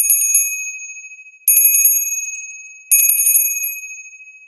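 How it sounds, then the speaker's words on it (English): A copper bell struck three times about 1.5 seconds apart, each strike bright and ringing with a high metallic shimmer that slowly decays; loud and clear with no other sound. "The copper bell."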